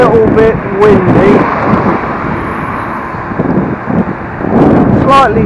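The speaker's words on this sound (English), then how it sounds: "a little bit windy" Steady wind rumbles and buffets the microphone on a mild morning e-scooter commute, with someone talking intermittently over the gusty noise.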